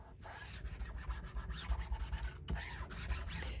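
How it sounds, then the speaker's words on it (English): Side of a scissors blade is rubbed firmly back and forth over book cloth on an old book cover, giving close, soft rasping strokes in an uneven rhythm with brief pauses. "I'm going to burnish this with just the side of my scissors."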